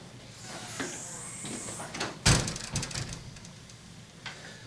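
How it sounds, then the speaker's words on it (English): A door is pulled shut in a lecture room, a sliding scrape followed by a sharp, fairly close thud and a short rattle, with quiet room noise around it. "I apologize, I'm going to close this door."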